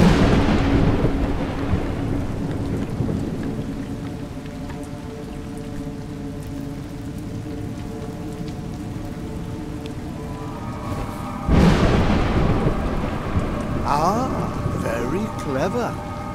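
Rain and thunder in the video game A Juggler's Tale: a heavy thunder rumble opens, steady rain patters beneath a sustained musical drone, and a second loud thunderclap breaks in near the end.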